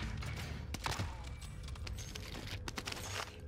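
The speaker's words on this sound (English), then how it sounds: "I love this pistol shot." Sharp gunshots from a pistol in the Call of Duty Warzone battle royale on Rebirth Island, popping several times over a dense, busy game mix of distant gunfire and ambient noise.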